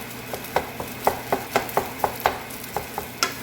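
A utensil scrapes and stirs through SPAM fried rice in a pan, breaking up the clumped rice with a steady series of sharp scraping taps, close and loud, with a faint sizzle underneath.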